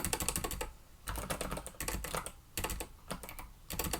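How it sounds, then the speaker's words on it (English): Rapid keystrokes rattle on a computer keyboard in dense bursts separated by brief pauses, close and fairly loud with no voices. "if I could type this would be easier"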